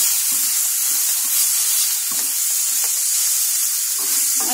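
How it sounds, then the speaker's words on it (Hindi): A spoon stirs a masala of coriander powder and garlic paste in a hot pan, giving a steady frying sizzle and hiss with repeated soft scraping strokes throughout. "ये धनिया पाउडर, ये लहसुन का पेस्ट, अब इसको अच्छे से मिक्स करेंगे।"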